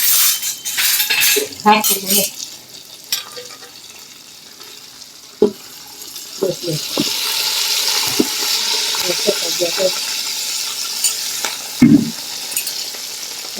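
Mango pickle masala being stirred with a metal spoon in a pan, giving scattered scrapes and clinks over a soft sizzling hiss, while someone talks intermittently nearby.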